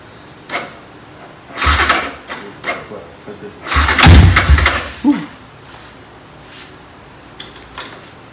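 A Spec63 motorcycle with a loud, harsh exhaust is revved in several short bursts, the engine rising and falling between quiet gaps, with people talking nearby.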